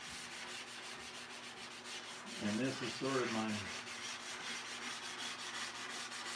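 Paint being sanded on a car wing, a steady broad rasping rub that runs throughout at close range, with someone talking briefly over it in the middle.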